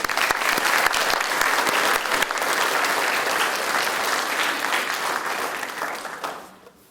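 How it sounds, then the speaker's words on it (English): An audience at an authors showcase gives student writers a warm, sustained round of applause, loud and even throughout before tapering off at the very end. "let's please give them another round of applause"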